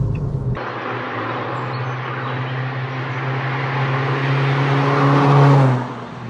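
Ford Fiesta ST Mk5 ST150 engine droning steadily from inside as it pulls through corners on a B road, revs rising gently toward the end before easing off.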